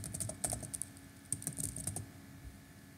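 Quiet, close computer keyboard typing while entering Arduino code, irregular clusters of light key clicks with short pauses between bursts, no voice present.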